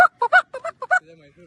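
Ducks honking nearby in a quick run of about six short, nasal calls, followed by softer, lower drawn-out calls that trail off.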